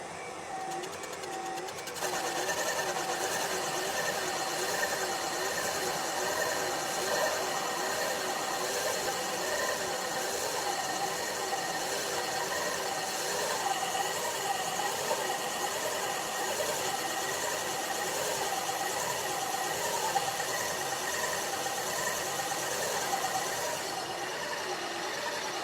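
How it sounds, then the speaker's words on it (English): A valve seat cutter grinds the intake seats on a 327 engine head, producing a steady, close mechanical whirring and chattering with a rhythmic pulse that runs without break from start to finish. "So let's see if we can cut these intake seats."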